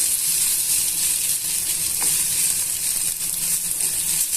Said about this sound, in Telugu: ఫ్లేమ్ని మీడియం టు లో అడ్జస్ట్ చేసుకుంటూ బంగాళదుంప ముక్కలను వేయించుకోండి